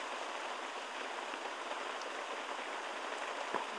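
Steady, dense heavy rain pouring down, an unbroken hiss of drops on a surface with no voices.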